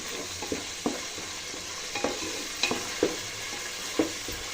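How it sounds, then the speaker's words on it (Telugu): Ginger garlic paste frying with golden brown onions for chicken fry piece biryani, a constant sizzle broken by regular clacks and scrapes of a stirring spoon against the pan, close and without speech. "అల్లం వెల్లుల్లి పేస్ట్ని కలుపుకొని పచ్చివాసన పోయేంత వరకు కుక్ చేసుకోవాలండి"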